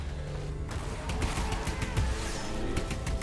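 Gunfire in the video game The Anacrusis, a dense, continuous rattle of shots with crashing impacts that starts up after a brief quieter moment and keeps going at a steady, loud level.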